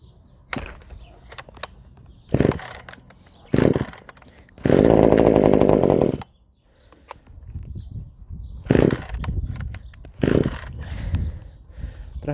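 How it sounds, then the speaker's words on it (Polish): A small petrol pole saw, a Parkside PBBPS 700 A1, sputters in several short bursts, then catches and roars loudly for a couple of seconds before dropping back to idle bursts. "Musimy to ssanie wyłączyć. Naciskając tu i pilarka już nam odpali."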